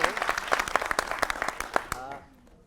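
A studio audience on a televised debate show claps in a burst of distinct, rhythmic hand claps that fade out after about two seconds, followed by a voice speaking.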